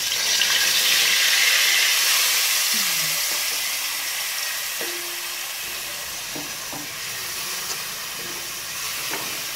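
Onion paste made from ground shallots and big onions frying in hot oil with cardamom, a steady loud sizzle and hiss with occasional stirring scrapes, no talk.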